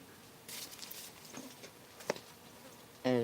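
A bee buzzes close by indoors, a soft droning hum that rises and fades in brief passes, with a sharper buzz near the end.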